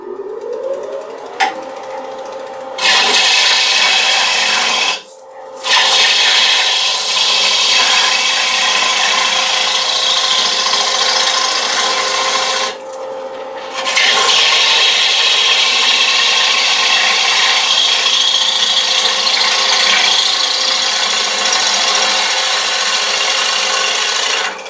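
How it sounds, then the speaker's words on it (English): A lathe gouge shear-scraping the tenon of a small walnut bowl, giving a loud, continuous hissing rasp that drops out briefly twice as the tool lifts off, close and alone, with no voices. "I'll turn the gouge up just a little bit. So instead of a hard scrape, it'll be more of a shear scrape."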